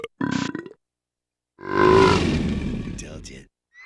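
A loud, drawn-out cartoon burp in a kids' animated comedy burp challenge rumbles for nearly two seconds after a short vocal grunt, fading with a gurgling tail.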